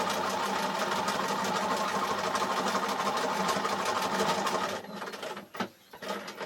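A sewing machine stitches curves while quilting, a fast steady mechanical whir running for several seconds close up, then stopping abruptly, followed by a few faint handling knocks.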